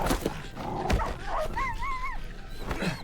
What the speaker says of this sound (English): Those are not regular dogs. That's a coyote.